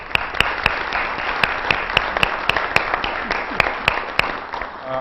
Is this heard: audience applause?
yes